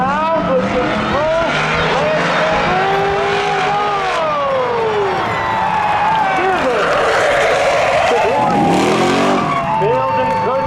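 Race cars at Seekonk Speedway spectator drags, engines roaring loud and close with rising and falling pitch sweeps as one pulls away through the turns, under continuous excited commentary.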